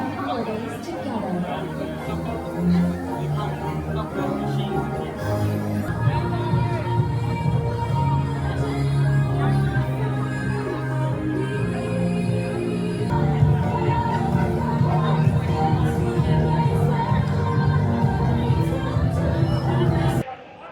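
Crowd chatter and babble of many voices around the holiday tree show at Disney Springs, a steady hum of people talking with music-like tones running underneath.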